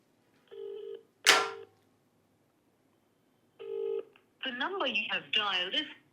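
A telephone being dialed to call someone: steady touch-tone beeps sound twice with a short chirp between them, then a voice begins speaking over the line.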